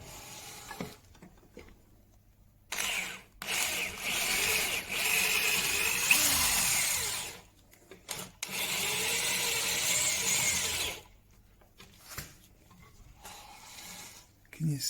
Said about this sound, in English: I've had to think about where I'm drilling some of these